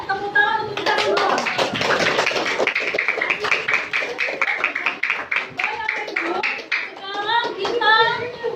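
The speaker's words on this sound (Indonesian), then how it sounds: "Tepuk tangan untuk kita semua." Applause from a group at an indoor religious quiz event, with dense clapping throughout and voices and children's chatter mixed in, swelling again near the end.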